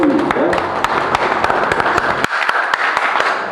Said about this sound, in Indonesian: beri tepuk tangan yang meriah buat Pak Ketua Luki